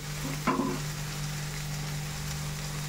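Water poured into a pan of vegetables frying for a Bengali vegetable ghant, a brief splash and hiss early on, then a low steady sizzle bubbling quietly under a constant hum.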